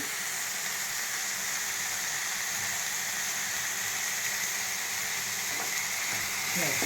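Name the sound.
stirring sizzling Mughlai curry after adding sour yogurt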